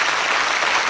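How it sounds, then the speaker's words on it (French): Audience applause during a talk on the state of the health crisis, a short dense burst of clapping filling the moment, loud and continuous with no voices. "Applaudissez-le"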